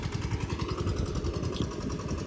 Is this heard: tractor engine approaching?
yes